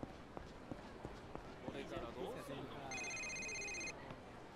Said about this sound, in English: Must have accidentally brought that man's phone with me. It's probably a friend calling.